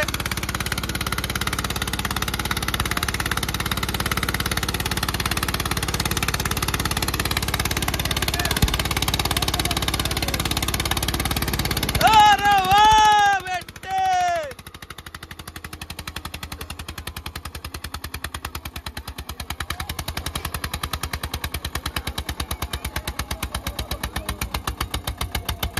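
An Eicher tractor engine runs steadily with a rapid, rhythmic knocking chug, close and loud, briefly interrupted midway by a few rising, whistly squeaks before the thumping rhythm resumes.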